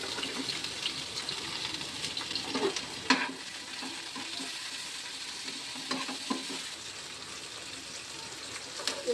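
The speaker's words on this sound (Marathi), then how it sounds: "कांदा टमाटा हा भाजून घेऊया मिरच्या दोन चार जिरं लसूण आणि अद्रक" Onion, tomato, a few chillies, cumin, garlic and ginger roast in a pan for a matar paneer masala, giving a steady close sizzle with occasional stirring scrapes and clinks, no talking.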